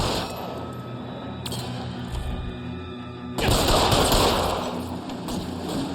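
Automatic gunfire during a police shootout in the video game LA Noire. Scattered shots come first, then a loud, sustained volley of rapid fire erupts midway and rolls on to the end, with no voices.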